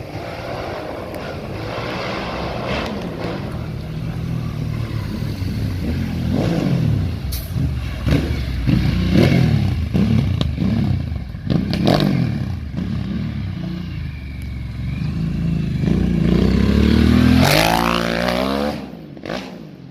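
A Harley-Davidson Sportster S with modified exhaust pipes rumbles and revs repeatedly, the exhaust note rising in pitch near the end, loud and close.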